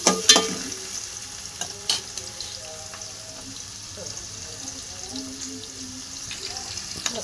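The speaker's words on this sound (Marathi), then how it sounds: "हे पण चांगलं तळून घेते." Onion and tomato fry in a pan with a soft sizzle beneath close stirring and utensil clatter, opening with a couple of sharp clinks and a trickle of watery sounds.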